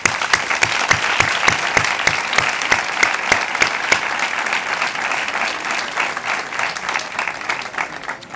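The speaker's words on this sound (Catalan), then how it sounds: "Un aplaudiment per a ella." Audience applause at a school graduation ceremony, a steady, dense wash of clapping with a few sharper, evenly spaced claps standing out near the front, continuing without talk and fading slightly toward the end.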